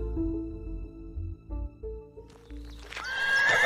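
A horse tied up far from a riverbank neighs in a Hindi audio drama of Ponniyin Selvan, a loud, shrill whinny near the end after low rumbling background tones.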